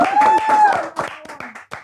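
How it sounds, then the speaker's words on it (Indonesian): A few hand claps ring out near the end of a Ramadan talk-show segment, sharp and uneven, following a sustained tonal voice. "Tepuk tangan dong."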